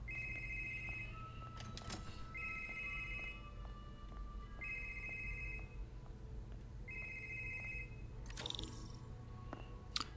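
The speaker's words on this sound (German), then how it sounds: "Telefon." A telephone rings in the Marvel's Spider-Man video game with four evenly spaced electronic ring bursts, moderately loud over a steady low game hum, with a brief clatter near the end.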